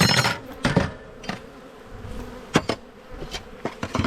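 Honeybees hum around an open white hive during a brood inspection, a continuous close buzz punctuated by sharp knocks and clicks from handling the hive frames and boxes.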